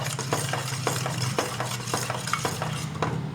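A ladle stirs thick payasam in a pot, making steady scraping and swishing strokes with faint metallic clinks, close and alone with no voices.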